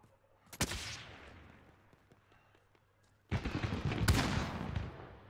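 Gunfire in the video game Call of Duty: Warzone: a single sharp shot, then quiet, then a dense burst of rapid shots near the end, fairly faint overall.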